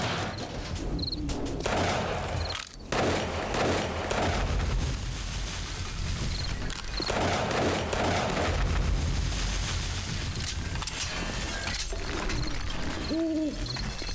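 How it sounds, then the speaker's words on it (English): Pistol shots in the game 7 Days to Die, a sharp crack near three seconds and another near seven amid dense, loud background noise, with no talk. "Some jerk with a pistol thought it would be a good idea to start shooting things"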